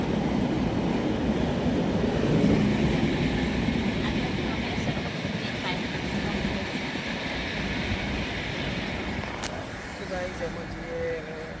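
A train rumbles across the Dholasar bridge in Gujarat, a loud continuous roar of wheels on rails that slowly eases, heard from close by the track.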